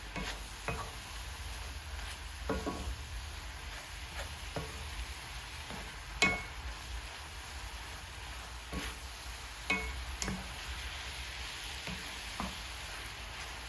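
Beef steak sizzles quietly in a pan on medium heat as it is turned, a soft steady frying hiss broken by scattered clicks and light scrapes of utensils, with no voices.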